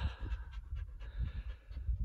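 A tired puppy pants close by on a mountain trail, quick rhythmic breaths repeating steadily for about two seconds with no talking.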